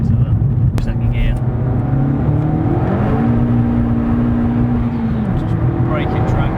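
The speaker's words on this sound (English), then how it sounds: "we'll give it a bit of a squeeze so you can kind of listen again to the second gear" A modified 269 BHP Suzuki Swift accelerates hard in second gear on a dual carriageway, engine pitch climbing then dropping at the shift, loud inside the cabin, with occasional talk over it.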